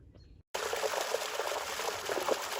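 A pond pump housed in a plastic tote with a wire mesh top starts back up after a brief moment of silence, then pushes out a steady close rush of flowing, splashing water.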